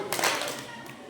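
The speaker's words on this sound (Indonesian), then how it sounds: "Tepuk satu" A single rhythmic group clap from children at an Isra Miraj religious lesson, one short, soft burst heard briefly with faint room murmur around it.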